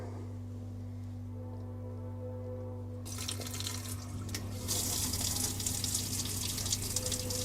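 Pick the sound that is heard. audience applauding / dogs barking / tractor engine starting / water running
water running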